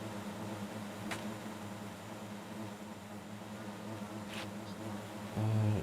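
A low, steady drone of buzzing bees in a Minecraft bee-breeding mod hums continuously, with a couple of faint clicks and a brief louder burst at the end.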